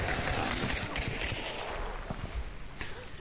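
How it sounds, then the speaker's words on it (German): Close, dense gunfire from Hunt: Showdown fills the entire stretch as a rapid, continuous rattle of shots. It fades slightly toward the end, with no talk over it. "Das Geballer ist aber in der Nähe."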